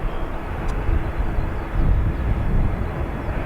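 An ATR turboprop takes off from runway 28 at Dublin Airport, a loud, steady low roar of engines that swells slightly partway through and holds without a break.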